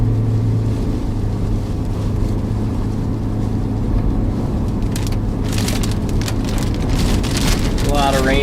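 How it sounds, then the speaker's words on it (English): Heavy rain drumming steadily on a vehicle during a storm chase, a dense, continuous loud hiss over low engine rumble, with a brief voice late in the recording. "A lot of rain is coming down."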